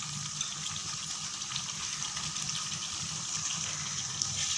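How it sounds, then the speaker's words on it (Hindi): Chicken frying in a pan with chopped green chillies, giving a steady, even hiss and sizzle close by with no one speaking. "अब हम इसको अच्छी तरह से भून लेंगे।"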